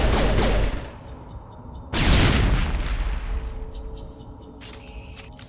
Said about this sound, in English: I keep trying to reload and throwing grenades